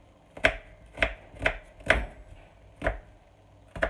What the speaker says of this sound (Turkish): Soymuş olduğum soğanlarımı şimdi güzelce ince ince doğruyoruz.